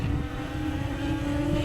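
A Talaria MX5 Pro electric dirt bike under strong regenerative braking gives a steady, close electric motor whine with a sustained tonal drone, set against wind and road rumble and no talking.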